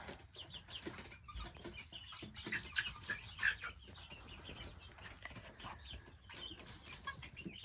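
Several chickens clucking and murmuring together in a busy, continuous flock in a chicken coop, with scattered sharper calls rising above the steady chatter.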